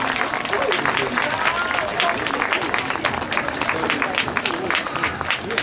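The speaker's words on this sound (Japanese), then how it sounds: "もう一度盛大な拍手をお願いいたします。" Audience applause fills the space after a stage performance at a Chayamachi exhibition event, a dense, steady clapping from a crowd lasting throughout with no pause.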